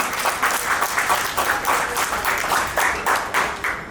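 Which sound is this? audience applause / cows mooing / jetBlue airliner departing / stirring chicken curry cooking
audience applause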